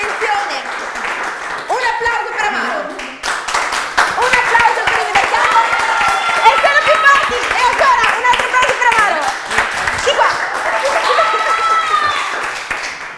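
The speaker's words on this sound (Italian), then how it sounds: "E allora facciamo un altro applauso per le varie tifoserie" A game-show studio audience claps loudly and steadily for the various fan groups, with scattered voices calling out over the dense, sustained applause.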